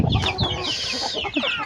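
Shamo breed chickens clucking close by in a feeding yard, a steady run of short overlapping clucks and calls with no talk.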